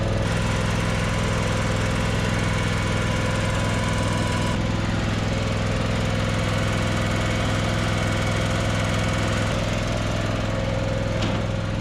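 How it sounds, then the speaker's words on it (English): A John Deere X320 riding lawn mower's engine runs steadily and loudly at close range, a constant droning hum with a slight shift in tone partway through and no voices. "Let's try it mowing just a tiny bit."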